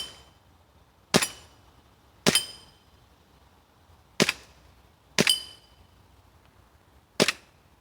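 A WE Ultra Carry Pro airsoft pistol fires five sharp, close single shots at uneven intervals, each a crisp crack with a brief metallic ring that suggests a BB ricocheting.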